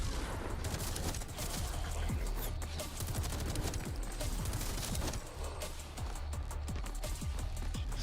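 Dense, sustained gunfire from the shooter video game Metal Eden, rapid overlapping shots and booming impacts packed tightly together, loud and continuous across the whole stretch with no talk over it.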